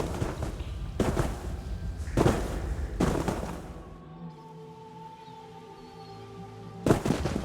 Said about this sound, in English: The door collapsed.